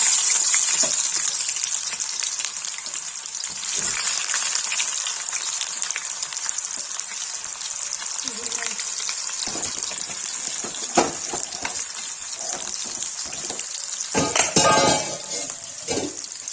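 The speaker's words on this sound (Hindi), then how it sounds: "गाइस देखिए तेल गरम हो गया, इससे प्याज फ्राई करके निकाल लेंगे।" Onions fry in hot oil for spinach and lotus stem palak with a steady, bright sizzle running throughout, joined by scattered spoon scrapes and clatters near the end.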